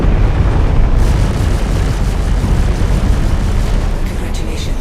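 Missile explosions in a video game make a loud, continuous rumbling roar of blasts that merge into one sustained wash of noise with no clear gaps.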